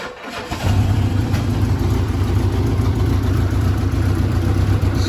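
A small engine on a homemade Tupperware Tank vehicle, running on old gas, catches after a brief quiet start and then runs with a steady, loud idle that holds for several seconds.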